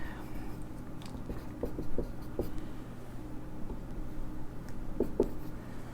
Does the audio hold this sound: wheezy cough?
no